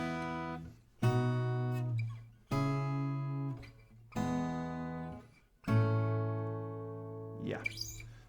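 Acoustic guitar strums the five-chord intro progression of a song in a single round, each chord ringing out in turn with short gaps between, close and clear with no talking.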